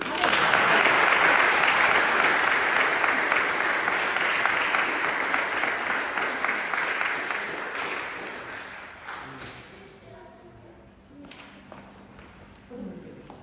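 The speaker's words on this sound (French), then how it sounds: "On l'applaudit." Applause from a church congregation at a Protestant confirmation service in Mertzwiller, dense and loud at first, then thinning and fading out over the last few seconds.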